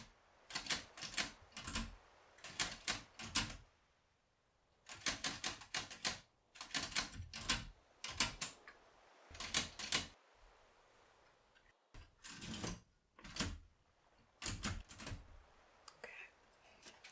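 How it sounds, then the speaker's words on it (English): A typewriter clatters in rapid clusters of keystrokes separated by short pauses, close and crisp, with soft seaside ambience beneath. "Checking that's all good with my typewriter."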